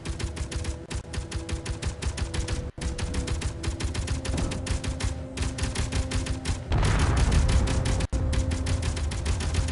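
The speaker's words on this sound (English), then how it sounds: "who is shooting at me?" Enemy gunfire in the underground survival game Helios Underground Survival, rapid sustained automatic bursts rattling continuously and loudly in a dense rhythmic stream, with brief pauses and a rougher, heavier stretch near the end.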